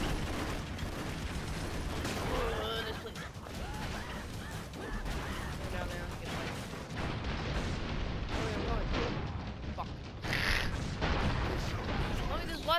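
Repeated booming blasts and gunfire-like bursts from the video game Broforce crackle through a busy, cluttered mix, with a brighter burst near the end and voices talking underneath.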